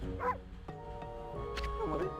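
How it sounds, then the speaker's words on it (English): A dog barks in the video game Okami HD, short yipping barks and a whimpering call scattered across a couple of seconds, mixed with game sounds and low voice-like tones. "I thought I'd know that bark anywhere."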